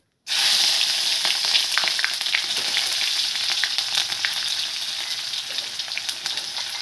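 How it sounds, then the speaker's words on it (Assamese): Onions dropped into hot mustard oil in a wok burst into a loud, steady, close crackling sizzle that starts abruptly and holds throughout. "তেলটো গৰম হৈ গ'ল, ইয়াত মই এতিয়া দিম পিঁয়াজ"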